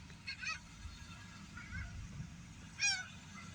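Goose-like birds honk around a parked car, a few short nasal calls at irregular intervals over a low rumble of background noise, with one louder honk near the end.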